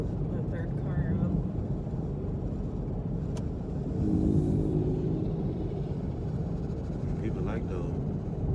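A car passes by on a road, heard from inside a moving vehicle as a swelling rumble that rises midway over the steady road noise.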